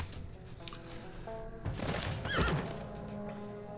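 A horse whinnies over a busy Civilization VI game soundscape of clattering, hooves and low background noise, with a brief synthetic tone earlier.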